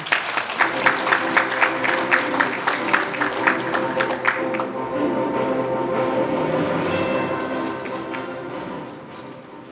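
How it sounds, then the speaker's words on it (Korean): An audience at an industrial complex investment briefing in Haenam, South Korea, claps warmly to welcome a speaker. The applause is crisp and lively for about four seconds, then thins out and fades into a softer, steady background. "여러분 뜨거운 박수로 환영해 주십시오"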